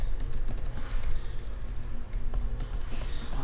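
Steady, rapid typing on a computer keyboard while an article is written in a Notion browser extension, dense continuous key clatter with a few louder taps, close and alone without talk.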